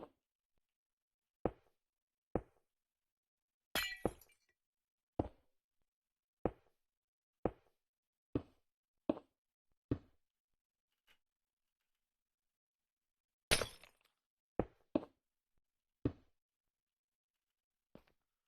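Temporary blocks being broken in Minecraft 1.18 while building an iron farm, a series of short, sharp, evenly spaced clicks and crunchy hits, with occasional louder bursts, separated by silence.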